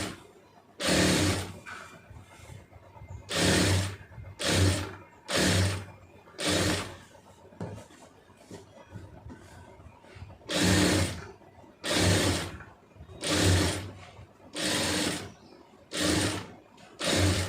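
A sewing machine stitches piping onto a lined blouse in repeated loud bursts of rapid needle clatter, each lasting about a second, separated by short quiet pauses, with no speech.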